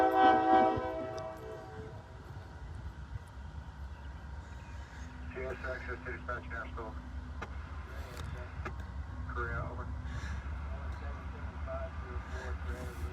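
NS 4422 freight train on the Paducah and Louisville Railway at Madisonville, Kentucky, with a steady low locomotive rumble throughout, a brief tonal horn-like note at the start and faint voices underneath.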